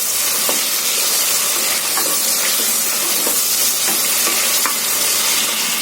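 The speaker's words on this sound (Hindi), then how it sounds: "प्याज को हल्का गुलाबी होने तक फ्राई कर लेंगे।" Thinly sliced medium onion frying in hot oil in a pan, a loud, continuous dense sizzle and hiss with occasional faint stirring clinks, no voices.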